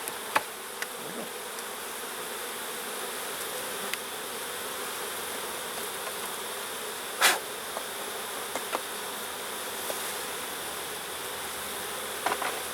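Honey bees from a colony being merged into another hive hum in a dense, continuous buzz close by, with a few sharp knocks and taps as the frames are shaken.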